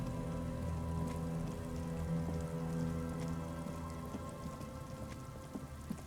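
Steady rain falls at night in the video game Disco Elysium, a soft continuous patter with faint splashes. It stays even and quiet throughout, with no voices.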